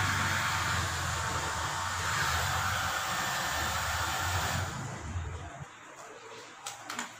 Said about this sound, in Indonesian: pengeringannya kita pakai hair dryer ya, guys.